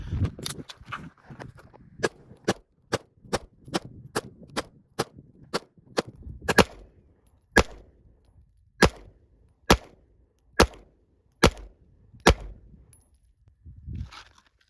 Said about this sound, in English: That was a great 17 shots.